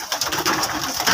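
Pigeons coo softly and repeatedly in a brief, close burst of rounded calls, with faint background noise and no talk.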